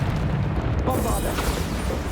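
Bombarda spell blast in the Hogwarts Legacy video game, a heavy rumbling explosion that swells partway through with a crackling burst, sustained over a low booming bed.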